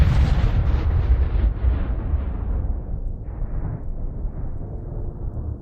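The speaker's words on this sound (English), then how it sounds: "Once you escaped the atmosphere, you looked away as your planet exploded." A planet explodes in an audio-drama sound effect: a loud, deep, rumbling blast that rolls on and slowly decays over several seconds, with no voices.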